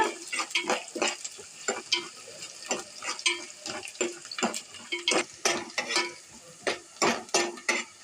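Potatoes fry and sizzle in a pan for a potato tomato masala curry, with repeated clinks and scrapes of a spoon stirring against the pan over a steady hiss, close and moderately loud.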